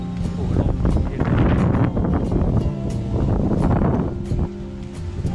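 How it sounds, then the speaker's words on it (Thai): Cool wind blows across a microphone outdoors, a continuous loud rushing buffet with gusty swells that fills the whole stretch. "โอ้ลมเย็น"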